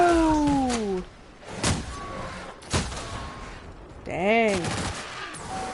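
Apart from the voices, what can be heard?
gunfire from a gun in the video game The Outer Worlds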